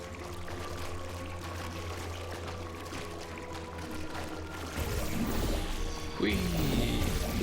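Propulsion gel sprays out in the Portal Stories: Mel game, a steady gushing pour that grows louder partway through, over a low game hum and background ambience.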